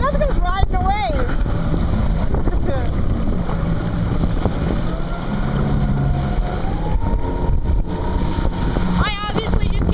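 A jet ski engine drones as it rides the waves, with wind buffeting the microphone and splashing water, while people shout and cheer nearby over the motor.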